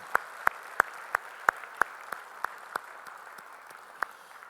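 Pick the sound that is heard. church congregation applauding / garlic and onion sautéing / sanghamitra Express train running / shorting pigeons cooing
church congregation applauding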